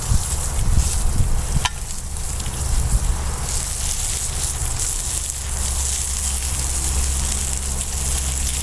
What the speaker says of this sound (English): You hear that meat is sizzling, man.